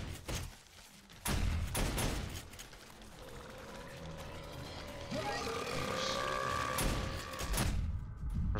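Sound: automated turrets firing at horde, video game 7 Days to Die

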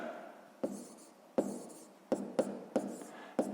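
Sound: pencil writing on paper

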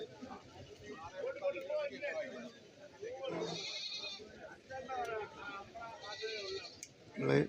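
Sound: goat kids bleating at a goat market

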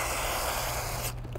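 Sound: water sprayed onto a wheel to activate cleaning gel suds

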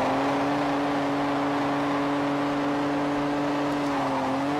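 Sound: Toyota Supra accelerating hard

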